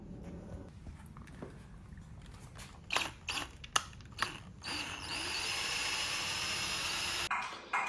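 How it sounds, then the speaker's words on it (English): A power drill revs in short bursts with clicks and handling noise, then runs steadily for a few seconds as it bores out a hole in a Lamborghini Gallardo steering wheel assembly. "So I'm gonna just drill it out"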